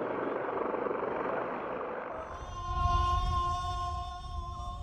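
Fire department helicopters at a New Year fire brigade parade in Chiba drone overhead, a broad rushing rotor roar giving way to steady whining tonal hum as they pass.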